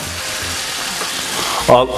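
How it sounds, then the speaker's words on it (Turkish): Lamb shanks for Ankara tava frying in a pan with melting fat, a steady close sizzle throughout that swells briefly near the end as pieces are set down. "yağlar tavada erirken biz de buradan kuzu inciklerimizi yavaş yavaş tavaya yerleştirmeye başlıyoruz."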